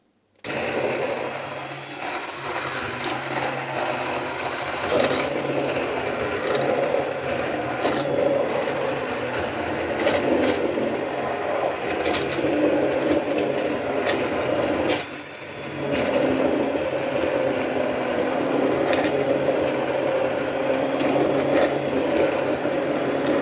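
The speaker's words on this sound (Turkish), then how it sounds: "blenderımı sokuyorum içine." A hand blender whirs continuously through a fig and milk dessert mixture with a gritty, grinding texture, briefly dipping around the middle before resuming at the same steady level.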